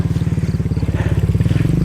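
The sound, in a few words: motorcycle riding through rice fields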